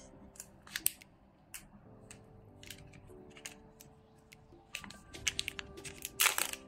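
Plastic packaging is torn and crinkled open while unboxing a DJI Osmo Pocket 3 and Hollyland Lark M2 wireless microphone set, with scattered close crackles and snips that build to a louder rustling burst at the end.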